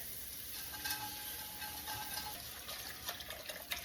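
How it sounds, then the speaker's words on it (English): Chicken stock pours steadily over vegetables in a pot with a soft sizzling hiss while a whisk stirs and clinks faintly, no voices. "you'll wanna whisk it as you pour"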